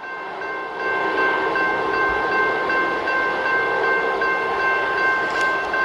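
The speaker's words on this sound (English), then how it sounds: "I think it's a train horn." An approaching Union Pacific intermodal freight train sounds a long, steady horn at a road crossing, holding one loud sustained chord over the rumble of the train.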